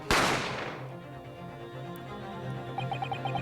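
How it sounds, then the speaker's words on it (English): A single loud gunshot rings out in The Great Ace Attorney, a sharp blast that decays over about a second into a low ringing tail, followed by faint game music with soft chiming notes. "You heard the gunshot, you mean?"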